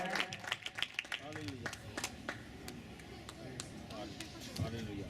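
A church congregation at a gathering in Pathankot, Punjab, claps to welcome a speaker, with scattered sharp hand claps in an uneven rhythm over room babble and voices.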